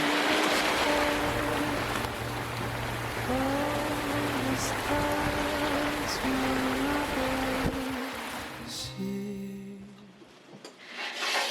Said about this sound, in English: Wind's starting to ease, but the rain's still here.